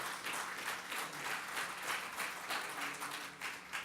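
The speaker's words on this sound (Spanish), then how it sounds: "Dale un aplauso a Él." A church congregation claps together during a Spanish-language sermon, producing a dense, steady patter of many hands that holds at an even level for the full few seconds with no one speaking.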